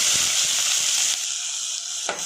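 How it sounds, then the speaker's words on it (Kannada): Mustard seeds and four finely chopped onions fry in hot oil, giving a close, steady, bright sizzle that crackles throughout and thins slightly toward the end, with no talking. "ಎಣ್ಣೆ ಕಾದ್ಮೇಲೆ ಸ್ವಲ್ಪ ಸಾಸಿವೆ ಹಾಕ್ಕೊಳ್ತಾ ಇದ್ದೀನಿ. ಈಗ 4 ಈರುಳ್ಳಿನ ಸಣ್ಣಗೆ ಹೆಚ್ಚಿ ಹಾಕ್ತಾ ಇದ್ದೀನಿ."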